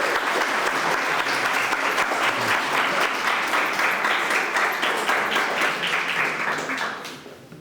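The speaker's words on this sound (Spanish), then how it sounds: "vamos a darle un caluroso voto de aplausos" Sustained, dense applause from a conference audience at a Peruvian medicine day lecture, loud and steady throughout before tapering off at the end.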